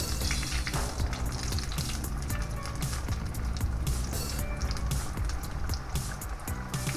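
A second batch of potatoes frying, a steady loud sizzle and crackle that runs unbroken throughout with no voices.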